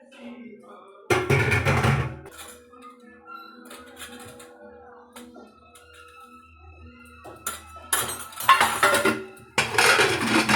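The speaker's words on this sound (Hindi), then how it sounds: "फिर मैंने कुकर का ढक्कन लगाया।" Metallic clanks and scraping bursts as a heavy pressure cooker lid is handled and set in place over dal with bathua, close by, with quieter stretches and some speech between.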